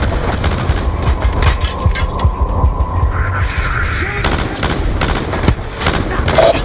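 Call of Duty: Black Ops 2 infantry combat, with dense bursts of automatic gunfire and booming shots crackling continuously at close range over a low hum, loud throughout.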